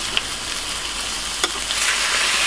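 Steak frying in a pan, a steady close hiss of sizzling fat with a few sharp pops and a brief scrape as the meat is moved around.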